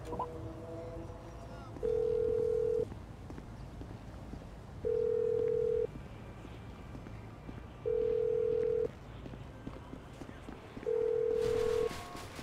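A phone rings out in Grand Theft Auto V, four steady one-second ring tones spaced evenly apart, clear and loud over quiet game background.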